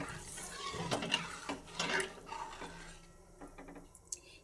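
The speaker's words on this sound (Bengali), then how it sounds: "দুধটা পুরো ঢেলে দিলাম ভালোভাবে চালটা মিশিয়ে দিচ্ছি দুধের মধ্যে" Gobindobhog rice stirred into milk for payesh, with soft liquid sloshing and gentle spoon swirls, faint and close, ending with a light clink.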